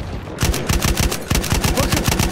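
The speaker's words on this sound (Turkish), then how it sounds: "Orada bir makinalı tüfek var." Rapid machine-gun fire in the World War I shooter Battlefield 1, a loud, close, steady rattle of about a dozen sharp shots over two seconds with no talking.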